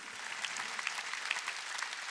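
Church congregation at a Sunday worship service clapping together, a dense continuous patter of hands held at steady moderate volume throughout.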